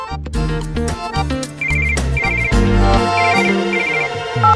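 A phone rings for an incoming call, a melodic ringtone playing loudly and alone in repeating bursts of bright tones over a steady musical backing.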